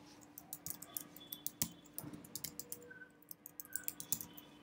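Quiet clicking keystrokes on a Mac keyboard as an email address is entered, a close, irregular run of light taps with brief pauses, no voices.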